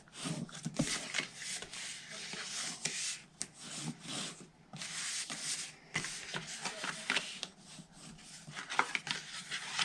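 Scored cardstock is folded and burnished by hand while making a gift box, producing continuous close scraping and rubbing with papery crinkles and soft taps. No one talks.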